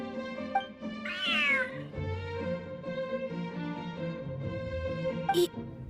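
A large cat meows repeatedly in a Genshin Impact cutscene, with clear tonal calls including one rising, drawn-out meow, over soft background music without speech.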